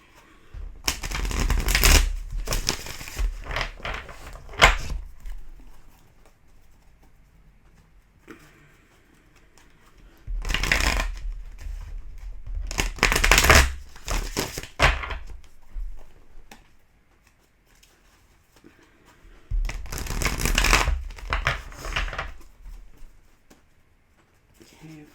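Karma cards are shuffled by hand close up in three separate bursts of rapid riffling and patter, with quiet pauses between them.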